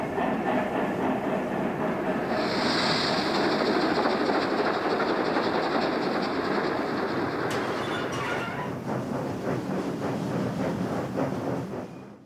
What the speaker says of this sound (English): We join the rack train to Subsociata.